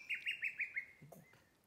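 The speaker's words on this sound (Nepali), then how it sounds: "घरती चरा कराउँदैछ घरती?" A ghartī bird calls in the Himalayan hills with a quick run of five sharp, rising chirps, loud and close, then a couple of softer squawky notes trailing off.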